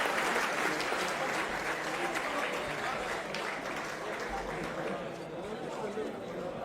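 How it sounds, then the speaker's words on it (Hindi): Sustained audience applause honouring soldiers at a Jai Hind Sabha gathering in Jawahar Bhawan, New Delhi, a dense, continuous wash of clapping that holds steady throughout before easing slightly near the end. "भाई एक बार जोरदार तालियों से वीर सैनिकों का सम्मान के लिए"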